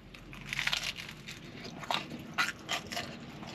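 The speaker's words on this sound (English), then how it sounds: "You can hear crunchiness." Crunchy bites into Detroit style pizza, with several sharp close-up crackling crunches spread over a few seconds and no talking.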